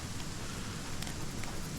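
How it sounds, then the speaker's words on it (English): Rain in the video game Aska falls as a steady, soft hiss, constant and faint, with no other sounds over it. "Rain again."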